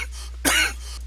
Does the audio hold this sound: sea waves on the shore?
no